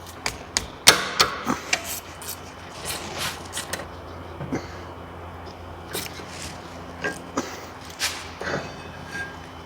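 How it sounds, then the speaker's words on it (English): Sliding pins being worked out of a brake caliper on a BMW 650i: sparse, sharp metallic clicks and taps up close, denser at first, then scattered single knocks over a low hum. "Remove the sliding pins."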